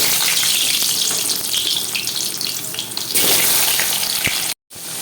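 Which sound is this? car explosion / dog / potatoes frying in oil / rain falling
potatoes frying in oil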